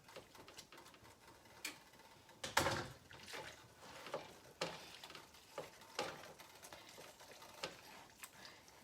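Pasta being stirred into a cooked mixture in a pan gives faint, irregular scrapes and soft clicks at a quiet, close level, with no one speaking.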